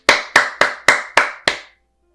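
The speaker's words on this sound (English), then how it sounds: "let's give your family and friends a warm round of applause" Six sharp, evenly spaced claps ring out loud and close as a short round of applause for graduating students' family and friends, each clap decaying quickly before silence.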